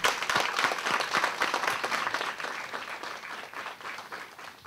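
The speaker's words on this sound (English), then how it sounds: "give her a big round of applause for that" Audience applause at a CUNY Aviation Institute family night, a dense burst of clapping from a crowd that holds steady throughout and eases slightly toward the end.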